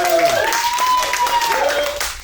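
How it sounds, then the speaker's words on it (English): An audience at a live comedy show at Mister Tramps applauds and cheers loudly and steadily, with raised voices mixed into the clapping throughout. "Round of applause for me."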